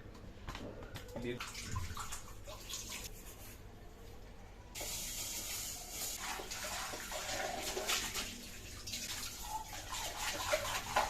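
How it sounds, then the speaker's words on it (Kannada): Dirty pots from boiled oats scrubbed under steady running tap water at a home sink, water hissing continuously and growing louder partway through, with clanks of metal and faint speech underneath. "ಬಾಂಡೆ ತಿಕ್ಕೋದಂದ್ರೆ ಸ್ವಲ್ಪ ಕ್ಲೀನ್ ಮಾಡ್ಕೊಳ್ಳೋಣ"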